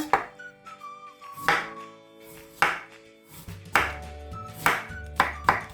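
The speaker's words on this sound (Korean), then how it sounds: "이렇게 잘게 무도 채치겠습니다." A kitchen knife finely julienning radish on a cutting board for pepper kimchi, giving sharp, close chopping taps in quick bursts separated by short pauses, with faint ringing from nearby utensils and no talk.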